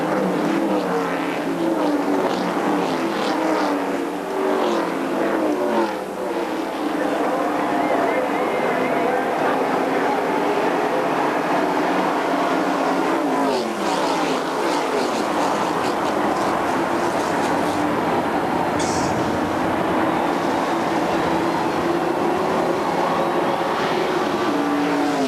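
Race cars start the 1990 Daytona 500, a dense, steady engine roar from the packed field with a sweeping pass-by swell midway, beneath a constant grandstand crowd din.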